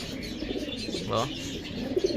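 Racing pigeons being readied for an old-bird club race season coo softly at close range, a brief low cooing call over a faint background of rustling and indistinct murmur.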